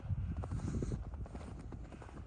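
Horses, including a filly, clip-clopping on the ground, a quick run of close hoof knocks under a low rumble, with no voices heard.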